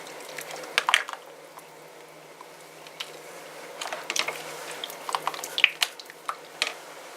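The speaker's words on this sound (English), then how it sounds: "Add a bit of garlic. And then I'm going to stir that up real nicely." Garlic stirred into rabbit stew gravy, heard as soft wet squishes and small liquid clicks in scattered bursts, close and fairly quiet.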